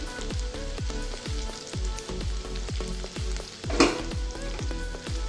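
Garlic and ginger fry with red chili powder for a sweet-and-sour tomato chutney, the steady sizzle cut by regular, rhythmic scrapes of stirring and one sharper clatter midway.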